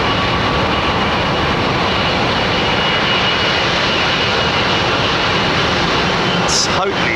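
A jet aircraft roars at London Heathrow Airport, a loud, steady, close engine sound that holds without a break throughout.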